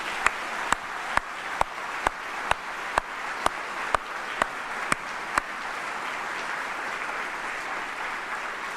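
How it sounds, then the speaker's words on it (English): An audience applauds for Faye at a ceremony honoring a retired lieutenant general, a steady wash of clapping punctuated by a regular series of sharp, louder claps that stop partway through. "So a big round of applause for Faye."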